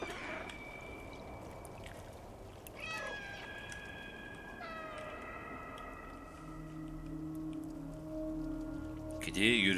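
Cat meowing in the video game Stray, several distinct tonal meows with rising and falling pitch spread across the stretch, close and clear over a low rain-like ambient wash, with a sharper cry at the end.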